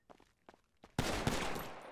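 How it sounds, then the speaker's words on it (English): Gunfire in GTA 5 during a police chase after a bank robbery: a few sparse shots or steps at first, then a sudden loud, sustained burst of rapid gunfire with a second surge, close and dense to the end. "Can y'all stop shooting?"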